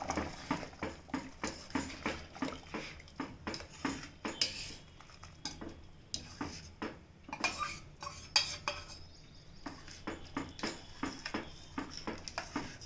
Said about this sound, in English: Just give it one stir.